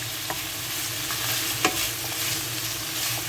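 Small slices of bacon fry in their own rendered fat, crackling and sizzling steadily while a utensil stirs them, with a few sharp pops and scrapes.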